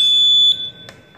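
The smoke detector of a newly wired fire detection and alarm system sounds a loud, piercing electronic tone, then cuts off, leaving a brief faint chirp and quiet.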